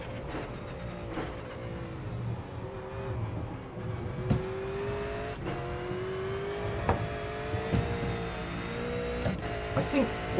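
A V8 Supercar circling the long Bathurst track in iRacing, its engine droning and rising and falling through gear changes, with someone talking over it throughout.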